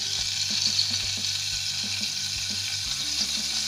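Butter, golden syrup and sugar melting together in a pan for ginger biscuits, a steady soft sizzle and bubbling hiss throughout with faint low tones underneath, no talking.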